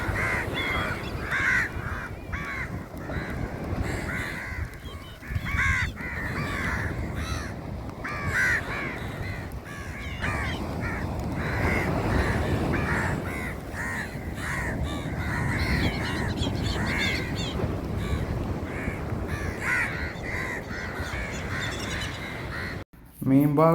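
Crows cawing noisily while being fed outdoors, their calls steady and close over a constant wash of background noise, with a sharp clatter right at the end.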